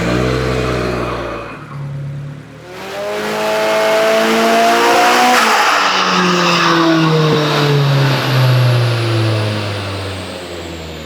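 Nissan S15 with an SR engine running hard on a dyno, a loud sustained roar with rising and falling revs and strong harmonic engine tones, no talking.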